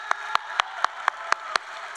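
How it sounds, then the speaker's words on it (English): Sharp, evenly spaced claps ring out about four times a second at a high school graduation, seven distinct strikes over a steady faint hum of the hall, each crisp and close. "can we give them a round of applause?"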